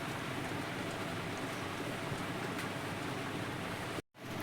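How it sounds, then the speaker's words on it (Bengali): Steady rain falling outside on a morning of continuous rainfall, a soft even hiss heard from indoors at low level, with a brief dropout near the end. "আজকে আমাদের এখানে বৃষ্টি হচ্ছে সকাল থেকে"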